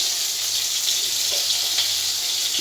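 Water drains off freshly boiled biryani rice in a steady, close, continuous splashing hiss. No voices are heard.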